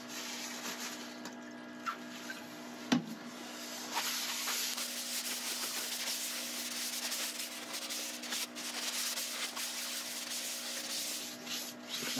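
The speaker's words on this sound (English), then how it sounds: "Clean off the excess as usual with isopropyl." Isopropyl alcohol being wiped off a turned ash wooden bowl, a steady close rubbing and scrubbing hiss that continues throughout with one brief knock near the start, no voices.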